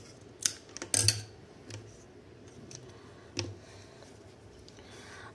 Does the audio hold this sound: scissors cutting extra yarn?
yes